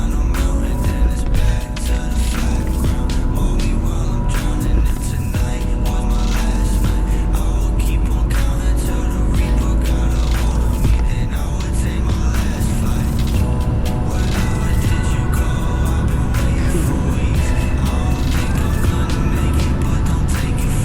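BMW E36 and E46 cars accelerate hard from a street race start, heard from inside with a loud, steady engine roar that fills the whole stretch without pause.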